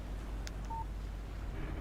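A phone plays a short, faint text message notification tone, a single brief beep over a low background hum.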